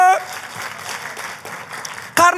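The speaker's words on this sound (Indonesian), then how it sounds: "Tepuk tangannya yang paling meriah buat Tuhan kita." A church congregation claps enthusiastically during a sermon, a fairly even patter of many hands that sits between bursts of a preacher's amplified voice at the start and end.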